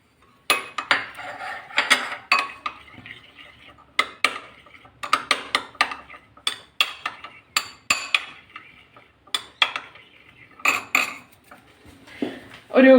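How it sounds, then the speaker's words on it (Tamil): Eggs seasoned with salt and pepper powder are beaten in a bowl for an egg and green peas podithuval, giving quick, irregular bursts of metal-on-bowl clinks and scrapes close by, with short pauses between strokes. "சால்ட்டு அண்டு பெப்பர் பவுடர் இது ரெண்டுமே சேர்த்து நல்லா மிக்ஸ் பண்ணி விடலாம்."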